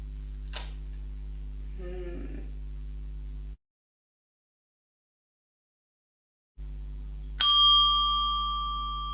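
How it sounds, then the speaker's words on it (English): A small bell chimes once with a bright ring and a long fading tail, following a few faint clinks and rustles and a stretch of silence. "Jack's cow had a bell. And you could explore lots of different types of bells with your students."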